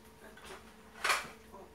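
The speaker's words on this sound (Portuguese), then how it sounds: "Deixa eu pegar uma colherzinha limpa" A clean metal teaspoon is picked up in a home kitchen while a simple egg omelette cooks, giving one short, bright clink of cutlery against a faint steady background hum, with softer rustling before and after.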